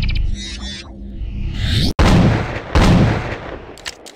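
A Double 10 shotgun fires in a first-person shooter video game: one sharp, loud blast cuts in mid-clip, and a second heavy shot follows under a second later, each with a rolling, booming tail.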